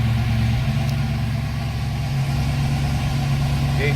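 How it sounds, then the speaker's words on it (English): A 1971 Ford Mustang Boss 351 idles close by with a steady, low, rumbling burble that stays even throughout, with no speech over it. "Very nice running sounding car."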